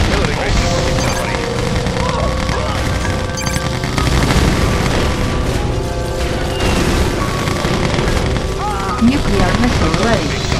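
Air strike explosions in Command & Conquer boom and crash repeatedly amid a dense, loud battle din, with rumbling impacts layered over constant game noise and voices speaking throughout.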